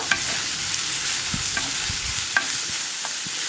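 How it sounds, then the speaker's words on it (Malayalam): Ginger, onion, green chili and curry leaves fry in oil for a sardine curry, a steady broadband sizzle with soft intermittent scrapes and clinks of a spoon stirring the pan, close and continuous with no voices. "ഇനി ഇഞ്ചിയും ഉള്ളിയും പച്ചമുളകും കറിവേപ്പിലയും ഒക്കെ ഒന്ന് നന്നായിട്ട് കുക്കായി വരണം. അതുവരെ നമ്മളൊന്ന് ഇളക്കി കൊടുത്തുകൊണ്ടേയിരിക്കുക."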